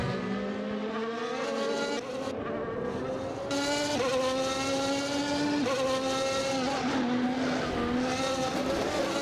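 Formula-style race cars in a virtual Grand Prix racing game, several high-revving engines whining and shifting gears close together, pitch climbing and dropping in a loud continuous battle.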